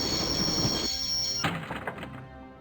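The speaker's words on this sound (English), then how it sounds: "We stopped the train." A train being stopped in the Broken Sword video game, a steady rumble that cuts off with a heavy clunk, followed by clattering and a fading mechanical settle.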